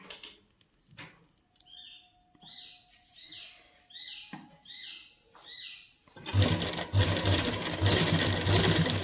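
A sewing machine stitches a seam while making latkan tassels for a party-wear suit; a series of chirpy squeaks gives way to the machine running loud and steady for the final few seconds.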